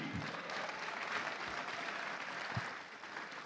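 An audience claps at a youth victory celebration event, a continuous, fairly faint roomy patter of many hands with a few louder isolated claps nearby.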